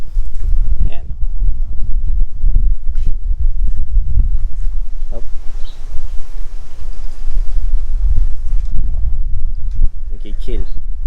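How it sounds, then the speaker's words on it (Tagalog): Strong wind roars steadily across the microphone on an open farm field, a loud continuous low rumble with rabbits nearby, while someone talks over it. "Medyo malakas ang hangin"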